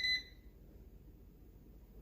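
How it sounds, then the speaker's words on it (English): Instant Pot Vortex air fryer oven gives a single short, high electronic beep at a button press, then falls to a quiet room hum. "It beeps if you press it each time,"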